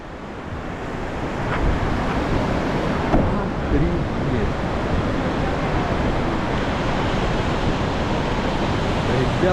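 A Norwegian waterfall roars as a continuous broadband rush of falling water, with wind buffeting the microphone. The sound swells louder after the first couple of seconds, then stays steady and close.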